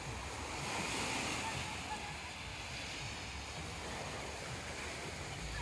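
Small, gentle sea waves at Tengket Beach on Madura wash onto the shore in a steady broadband surf roar, with wind buffeting the microphone throughout and no voices.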